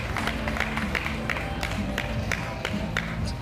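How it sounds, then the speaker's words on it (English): Audience at a vegan festival event clapping and cheering for the organizers, a dense, steady wash of applause from a crowd filling the whole stretch without letup. "Give them a round of applause, please"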